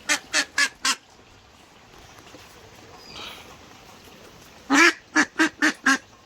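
Several ducks quacking nearby on a rainy day: a quick run of four loud quacks, a quiet stretch of soft background noise, then another burst of five quacks.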